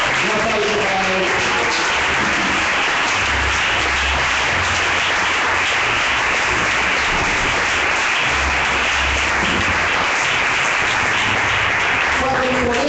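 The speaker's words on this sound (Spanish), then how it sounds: "Un aplauso para él." A church congregation applauds loudly, a continuous broad crackle of clapping that runs the whole length, mixed with raised voices and some talk underneath.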